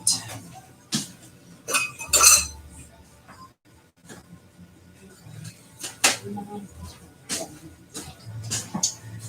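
Casserole mixture is dumped into a bowl and stirred while preparing a Thanksgiving dinner, giving scattered clinks and scrapes of utensils against the dish in short bursts, with a voice talking in between.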